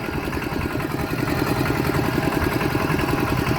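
Tractor engine idling outdoors on a rural roadside, a steady close mechanical chugging with a rapid regular pulse and no talking.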